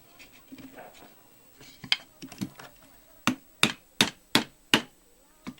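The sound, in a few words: hammering tacks into canvas stretchers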